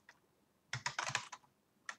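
Typing on a computer keyboard while entering a command into a programming console: a few isolated key taps, then a quick burst of clicks and one last tap, close but soft, with no voices.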